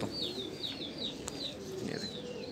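Pigeons coo softly over a busy background of bird chirps and faint ambient noise.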